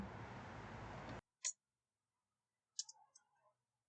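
Computer keyboard keys tapped while entering text in a game engine editor, a single click then a short cluster of quiet clicks, close but faint, following a steady burst of noise that cuts off abruptly.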